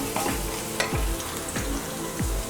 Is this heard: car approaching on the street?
no